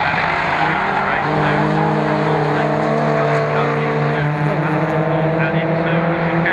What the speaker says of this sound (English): coming out of the chicane with Martin Wills, but he's kept his foot flat